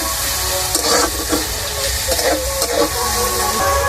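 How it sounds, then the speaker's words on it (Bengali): Onions frying in oil in a pan for a Bengali potol fish curry, giving a steady close sizzle and hiss with occasional stirring scrapes, and faint talk in the background. "আর দিয়ে দেবো পেঁয়াজ, পেঁয়াজটাকে ভালো করে ভেজে নেব।"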